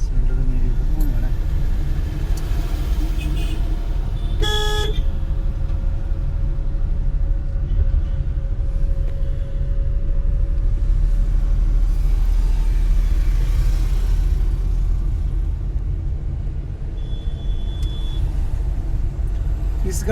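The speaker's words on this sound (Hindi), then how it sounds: "इस गाड़ी को चढ़ाई में उठाने में कोई प्रॉब्लम नहीं है।" An automatic car climbs an incline with a continuous low engine and road rumble, steady and close for the whole stretch, while people talk inside at times.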